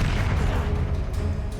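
Confringo fire spell blasting in Hogwarts Legacy, a dense, continuous low boom with crackling rumble filling the whole short moment, loud and up close with no voice over it.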